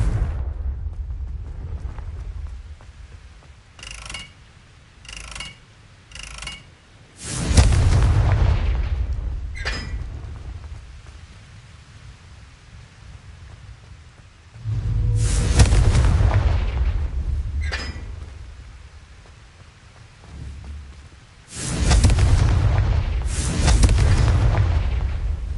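Confringo fire spell explosions in Hogwarts Legacy: several heavy, booming blasts come in clusters with rumbling tails, interspersed with sharper quick cracks, loud and close.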